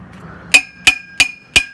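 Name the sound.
hammer striking a post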